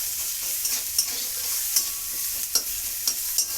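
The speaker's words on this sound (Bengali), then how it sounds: "আর দিয়ে দেব এখানে কেটে রেখেছি দেখো পেঁয়াজ আর রসুন, ওটা ফোড়ন দিয়ে দিলাম" Chopped onion and garlic fry in oil over a nigella seed tempering, giving a steady bright sizzle with a few sharp scrapes of a spatula against the pan, close and alone.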